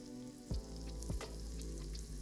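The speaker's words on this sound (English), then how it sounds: "You want to break up all of the ground chorizo and we're going to cook it until it gets a little crisp." Ground chorizo squeezed from its casing frying in a hot pan, a steady close sizzle with a few louder scrapes and stirs as the meat is broken up.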